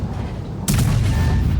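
A Japanese Ho-Ri tank destroyer's cannon fires once in World of Tanks: a single loud, sharp blast cuts in after a quiet engine hum, then leaves a low, heavy rumble.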